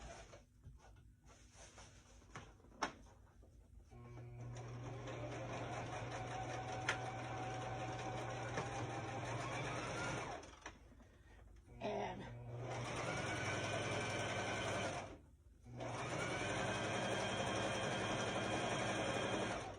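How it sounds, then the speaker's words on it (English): Pedal-driven sewing machine stitching around a piece of fabric, a close, steady mechanical hum and rapid needle chatter running continuously with a couple of brief pauses, and a few clicks at the start. "So I'm going to start sewing and find my pedal down here on the floor."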